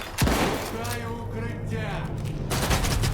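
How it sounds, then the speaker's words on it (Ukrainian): Gunfire in the video game S.T.A.L.K.E.R. 2 comes as a sharp opening shot followed by dense, rattling bursts of fire and thumps, loud and continuous, with a voice talking over it. "стріляй"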